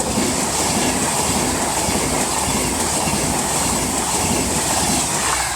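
A Class 390 electric train, unit 390 009, passes through Rugby station on the West Coast Main Line, a loud, steady rushing roar with rail clatter that holds from start to finish with no talking.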